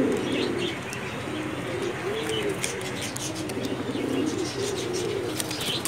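Pigeons coo in soft, repeated rounded calls close by, over a constant background hiss with faint chirps and brief rustles, no voices.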